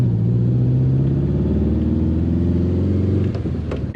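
A 1971 Volkswagen Beetle engine running close by, a low steady air-cooled rumble that holds an even idle, then wavers slightly near the end, with no talking over it.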